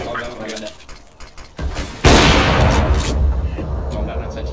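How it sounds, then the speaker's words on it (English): A flashbang grenade bursts in Counter-Strike: Global Offensive with a loud, sudden broadband blast about halfway through, leaving a sustained bright ringing wash under earlier scattered game noises and voices. "Deploying flashbang"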